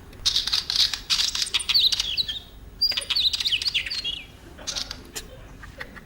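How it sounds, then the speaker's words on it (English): A wheatear's bright, high-pitched calls and chirps in quick repeated bursts, fairly close, with short pauses between phrases and no talking. "It's a wheat ear."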